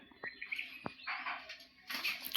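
Caged doves call in short, faint, high notes scattered across a quiet room, with a brief rising flurry of calls at the end.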